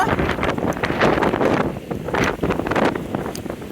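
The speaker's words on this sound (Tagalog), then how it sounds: "Lakas ang hangin pa." Strong gusts of wind buffet the microphone in heavy, uneven rushes, roaring and dropping repeatedly at close range, in the aftermath of Typhoon Ragasa.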